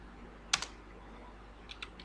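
Keyboard keys tapped while building a loan sheet in Excel: a close, sharp pair of clicks followed by three lighter keystrokes a moment later, with no talking.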